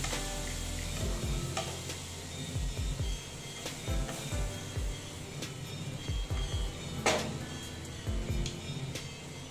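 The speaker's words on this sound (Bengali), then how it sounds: "দিয়ে অল্প আমি জল দিয়ে দিলাম, দিয়ে অল্প এটা ভেজে নেব ভালো মতো।" Soya chunks frying in a pan with a little water for a potato curry, giving a steady low sizzle with repeated scraping and clinking stir strokes and one sharp clatter, heard close with no talking.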